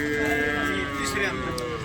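A cow at the Sangola cattle market lows over steady crowd and market noise, with people talking nearby throughout.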